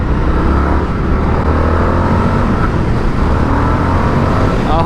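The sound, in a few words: Indian FTR Championship Edition motorcycle accelerating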